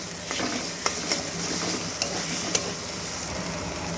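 A bean and tomato curry sweetened with a little sugar is stirred in a pan, producing a steady, close frying sizzle punctuated by a few sharp spatula taps.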